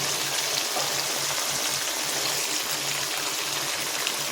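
A small splash of water hits hot oil in a frying pan, producing a continuous crackling sizzle, loud and steady throughout with no pauses or talk.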